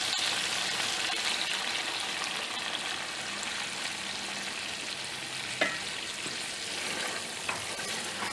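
Mutton frying in a handi as a cup of yogurt is added, a steady loud sizzle and bubbling hiss close up, with a couple of small clinks, no talking.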